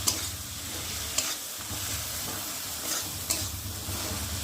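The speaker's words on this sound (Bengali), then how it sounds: "হলুদ গুঁড়ো দিয়ে মশলাটা ভালোভাবে কষিয়ে নেব" A spice masala with salt and turmeric is stir-fried in oil for an aila fish curry, a close, steady sizzle broken by a few scraping stirs of the spatula.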